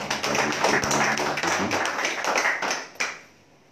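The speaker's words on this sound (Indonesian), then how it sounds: "Beri tepuk tangan yang meriah." Church congregation at a Sunday morning service clapping hands, a dense burst of claps that runs steadily, ends with one sharp final clap and then fades quickly.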